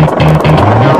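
Rotor of a CH-53E heavy-lift helicopter with a huge four-blade main rotor, a loud, close, rapid thudding beat over deep engine rumble.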